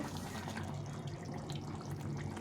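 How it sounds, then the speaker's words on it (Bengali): Snakehead fish curry gravy boils in a pot, giving a steady, dense bubbling hiss that runs unbroken and fairly close, with no voices over it. "এখন ঝোলটাকে ভালো করে ফুটিয়ে নেব ঝোলটা ফুটে গেছে"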